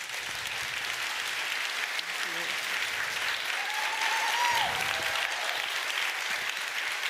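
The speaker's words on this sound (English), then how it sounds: "A big round of applause for her." A conference audience applauds steadily for a speaker leaving the stage, a dense wash of many clapping hands throughout with faint voices mixed in.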